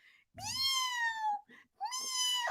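A big male cat lets out two drawn-out, very high-pitched whining meows close up, separated by a short pause, with a faint rustle before the first cry.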